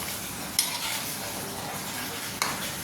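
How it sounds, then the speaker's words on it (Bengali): Tilapia pieces and potatoes tossed with cumin powder in a pan give a steady soft sizzle and stirring rustle, broken by two sharp clicks of the spatula against the pan. "জিরার গুঁড়া দিয়ে আবার ভালো করে মিশিয়ে নেব"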